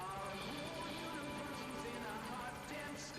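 A helicopter's steady rotor drone fills the background of the video game Metal Gear Solid V on PS3, a constant thrumming hum with voices faintly mixed in.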